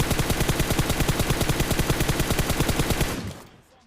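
Rapid automatic gunfire in a video game, a long steady burst of evenly spaced loud shots that stops abruptly near the end and leaves a brief fading tail.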